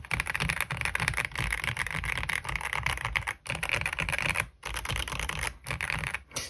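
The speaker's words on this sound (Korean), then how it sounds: "타건감은 매우 그 깔끔한 플라스틱 느낌의 타건음을 들려주고 있고요" Rapid typing on an AULA F87 Star Trek mechanical keyboard, crisp clean plastic keystrokes clattering continuously at close range with a few brief pauses, no voices.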